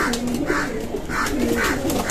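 Pigeons cooing near a coconut tree, a series of repeated low rolling coos in a steady rhythm, close and clear with no talking.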